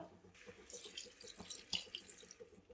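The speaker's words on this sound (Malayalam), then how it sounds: "അപ്പോൾ ഇനി നമുക്ക് കുറച്ച് വെള്ളം ഒഴിച്ചു കൊടുക്കാം." Water poured into a pan of chicken liver being cooked as a Kerala-style dry roast, a soft, close stream splashing and bubbling for a few seconds, quiet and alone with no voices.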